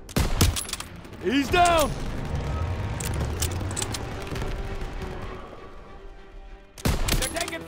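Gunfire crackles in Call of Duty: WWII, a World War II shooter, with rapid bursts near the start and again at the end. Excited soldier shouts and game ambience fill the stretch between.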